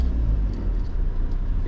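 Van brakes grinding metal to metal while driving, heard as a loud, low continuous rumble and scrape blended with road noise.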